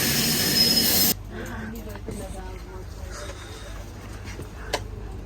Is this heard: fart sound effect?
no